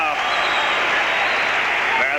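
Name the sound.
boxing crowd cheering and applauding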